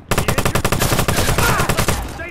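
Rapid bursts of automatic gunfire in a Watch Dogs gang shootout at a parking tower, loud and close with a dense rattling rhythm and shouting voices underneath.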